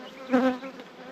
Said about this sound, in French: toutes les abeilles, toutes les butineuses qui vont sortir d'en bas, elles vont aller butiner